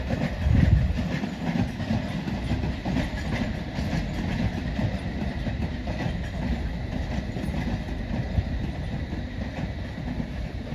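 A Great Western Class 387 electric train comes in at a London station, a steady rolling rumble with rail clatter, fairly near and continuous, with a louder thump early on.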